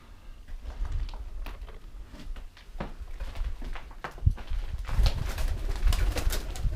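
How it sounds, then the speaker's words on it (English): Pigeons coo inside a derelict building, their soft repeated calls close by amid scattered taps and rustling. "Lots of pigeons."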